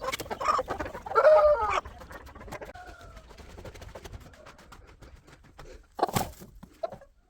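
A broody hen clucking while being settled onto a clutch of 15 eggs in summer. The clucks come close and loud in irregular bursts, busiest near the start, with a sharp flurry toward the end.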